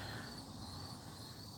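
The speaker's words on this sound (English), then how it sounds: "you hear the crickets" Crickets chirp steadily in a dense high-pitched trill, continuous and fairly faint, like an outdoor night ambience.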